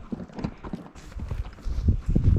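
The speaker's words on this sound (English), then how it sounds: "Good horses this summer." Pack horses walk along a mountain trail in the Sawtooth Mountains, their hooves giving irregular, fairly close clip-clops and footfalls that grow louder and heavier toward the end.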